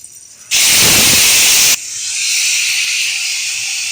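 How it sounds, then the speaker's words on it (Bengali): Ground mustard and green chili paste hits a hot wok with a sudden loud hiss that lasts just over a second, then fades into a softer, steady sizzle. "গ্রাইন্ডারে সর্ষে আর কাঁচা লঙ্কা পেস্ট করে নিয়েছি এবার এটা কড়াইতে দিয়ে দেবো"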